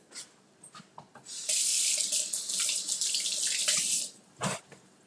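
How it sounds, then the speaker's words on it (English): A kitchen tap runs as hands are washed under it, a steady splashing rush lasting about three seconds after a few light clinks, then a brief final splash as the water stops. "I'm gonna wash my hands."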